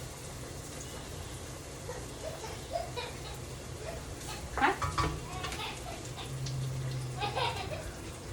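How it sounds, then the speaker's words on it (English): Shallots sizzle and crackle steadily in a hot pan, with stirring scrapes and clinks of a utensil, and a voice speaks briefly. "To add shallots. Oh, I love that sizzle."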